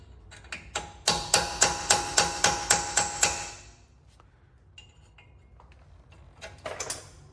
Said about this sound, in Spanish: lo ponen y le pegan un mazazo